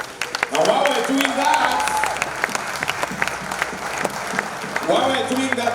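A crowd at a tribute concert breaks into sustained, dense applause with cheers, while a voice carries on over the clapping.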